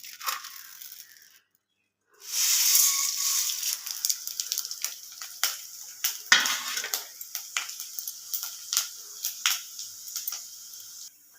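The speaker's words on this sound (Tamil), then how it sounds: "இது எல்லாம் எண்ணெயில் வறுத்துக்கலாம்." Coriander, cumin, fenugreek, dals and dried red chillies roast in oil in a pan, a quick crackling sizzle followed by repeated scraping stirs and sharp clinks of a metal spoon, close and fairly loud.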